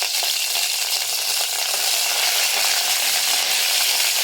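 Dried red chillies and curry leaves sizzle and crackle steadily in hot oil in a pan, stirred during Kerala sambar preparation, a dense continuous frying hiss without speech.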